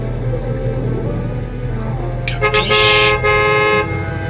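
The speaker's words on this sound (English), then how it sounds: "stop honking" Car horn honking in the Godfather 2 video game, several short loud toots near the end over a steady engine hum and game background sound.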